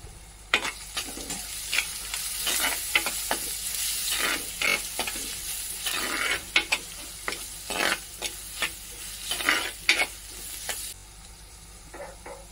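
Onion frying in a pan with salt and turmeric for a Malvani-style tomato curry, a steady sizzle broken by frequent sharp scrapes and taps of a spoon stirring against the pan, close and fairly loud, stopping near the end.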